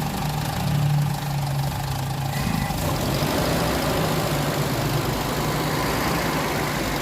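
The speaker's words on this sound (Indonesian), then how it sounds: "Nah, ini mesinnya geredeg seperti ini, terutama di RPM bawah" A car engine idles roughly with a spark plug cap missing from the distributor, giving a loud, close, uneven low chugging with irregular misfire beats throughout, and no voices.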